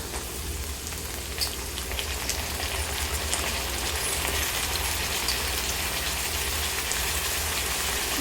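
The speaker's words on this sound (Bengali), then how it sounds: "আলুগুলো কিছুক্ষণ ভেজে নেবার পরে আমি এতে দিয়ে দিচ্ছি কেটে রাখা ডাটা" Potatoes and cut drumstick stems frying in a pan for a vegetarian curry give a steady, dense sizzle like light rain, continuous and close at moderate volume with no talk.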